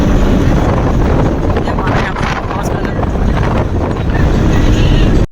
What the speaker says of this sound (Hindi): मस्त मध्यम हवा चलाती है, आप देख सकते कितना अच्छा लग रहा है